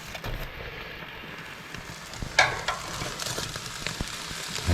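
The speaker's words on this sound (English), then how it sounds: "Yeah, they're sizzling in there." Close, continuous sizzling and crackling of potatoes frying in a pan at an off-grid cabin, with a brief louder clatter partway through.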